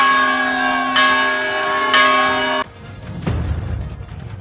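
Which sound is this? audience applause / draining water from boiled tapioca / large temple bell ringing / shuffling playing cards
large temple bell ringing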